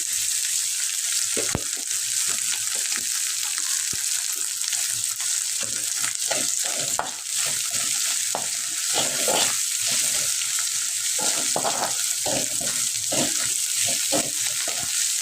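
Yardlong beans fried with dried fish sizzle steadily in a pan, with frequent scraping stir strokes from a spatula clattering throughout, close and continuous, no talking.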